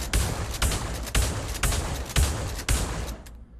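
Pump shotgun in the VR shooter Pavlov fires about six heavy blasts at a steady pace of roughly one every half second, each a loud broadband crack with a brief rumbling tail, close and alone.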